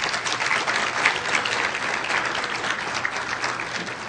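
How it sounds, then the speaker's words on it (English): Steady, loud audience applause fills a banquet hall at the 2011 Shura Council Banquet, continuous clapping with no voices on top. "we applaud and welcome Sharif Baka for the dinner."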